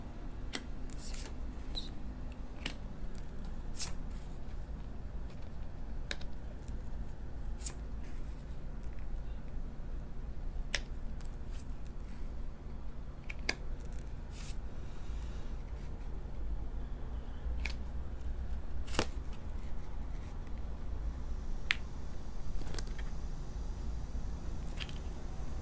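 Tarot cards being laid out and handled during a card reading, heard as soft, sparse clicks and light taps scattered over a quiet, steady room hiss.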